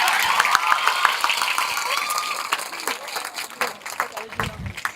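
Audience clapping at a school Navratri garba event in Botad, a steady wash of applause filling the clip with a few louder bursts toward the end, mixed with crowd noise.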